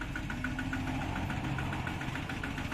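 A 500-watt electric motor on an experimental solar-powered car spins with its wheel lifted off the ground: a steady mechanical hum with a quick, even, pulsing beat, close by and continuous.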